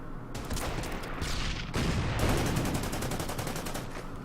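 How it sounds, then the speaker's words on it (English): A KV heavy tank fires in the strategy game Order of Battle, with a burst of sharp, cracking gunfire that runs on as a rapid rattling volley, loud and close with no talk over it. "the KV will take a shot here"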